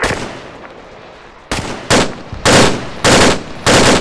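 Machine gun fire in Arma 3, loud close bursts repeating in a steady rhythm of about five short volleys after a quieter background opening, each burst sharp and dense.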